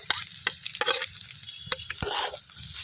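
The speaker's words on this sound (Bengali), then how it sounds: "রুটিগুলো দিয়ে খুব ভালোভাবে ভেজে নেব" Pieces of roti tossed and fried in a pan for an atta roti chowmein, bursts of sizzling broken by sharp scraping and clanking stirs, close and fairly loud.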